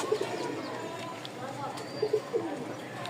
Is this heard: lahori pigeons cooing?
yes